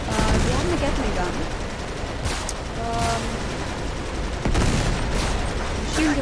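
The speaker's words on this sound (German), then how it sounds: "Wir haben eine Gatling Gun." Sustained automatic fire from a Gatling gun in the action game Uncharted 3: Drake's Deception, a dense continuous rattle with a few sharp louder bursts, mixed with other game sounds.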